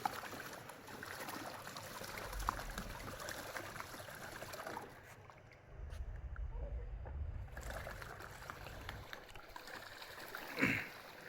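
A small boat moving through water at Sarah Resort in Sreepur, Gazipur, with faint, continuous low rumble and water wash, a brief lull midway and a soft splash near the end.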